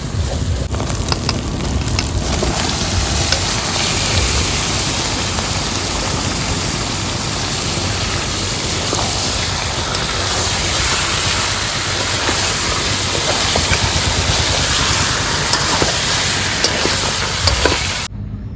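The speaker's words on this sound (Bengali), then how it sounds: "মশলা কষানো হয়ে গেছে এবার মাছ ঢেলে দেবো" A big bagha shankar fish cooks in spice masala at an outdoor family picnic, giving a loud, continuous, dense sizzle and bubbling that holds steady throughout with no talk.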